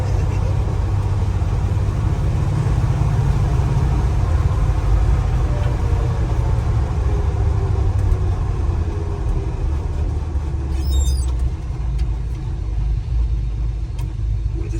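A 1965 Chevrolet C10 short-bed Fleetside pickup with four-wheel power disc brakes, its engine rumbling steadily and close throughout while driving, a low continuous drone with no talk.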